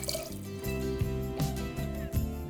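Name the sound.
pouring rum into saucepan with plant-based milk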